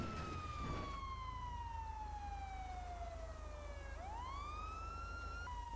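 Police car siren in GTA Online on a FiveM server, a steady wail sweeping down slowly then rising sharply, loud and continuous with no talk over it.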